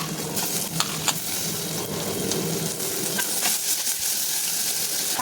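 Tomatoes frying in a pan while making snake gourd sambar give a steady loud sizzle with light stirring scrapes and a few clinks of a spoon against the pan, no talking.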